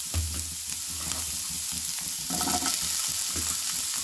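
Chopped bell peppers and onions sizzle as they are stirred into hot oil in a frying pan, a steady close crackle of frying with scraping stir sounds of the utensil in the middle.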